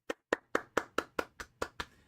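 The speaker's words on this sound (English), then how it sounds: "I think we should have a round of applause." A single person's hands clap about nine times in a steady, even rhythm, each clap sharp and close with a short decaying ring, no voices present.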